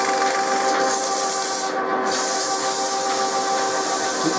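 Steady abrasive rubbing hiss as rust is taken off a pulley spinning in a lathe chuck, a continuous broadband grind held at an even, close level with no talk.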